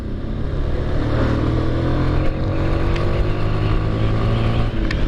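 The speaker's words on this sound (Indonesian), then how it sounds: "Padahal ini mesin masih standar loh, belum tak ubah atau tak apa-apa" Stock, unmodified engine of a 2008 motorcycle running under way, a steady, fairly loud motor drone with faint rising tones and no talk over it.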